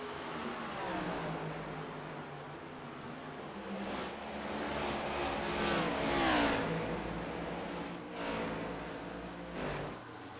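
NASCAR race car engines in the iRacing video game, faint droning and revving with pitch sweeps as cars pass, continuous and steady without talk.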